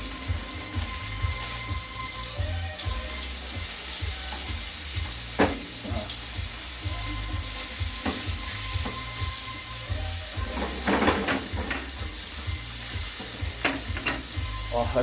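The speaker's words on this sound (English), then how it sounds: "let's flip that steak" Steak frying in a pan at home: a steady, close sizzle and hiss with a constant low hum, broken by a few sharp clinks and scraping bursts as the meat is turned.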